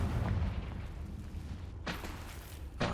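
A Confringo fire-spell blast from the Hogwarts Legacy video game, two short bursts over a low rumbling game background, the second cut off at the end.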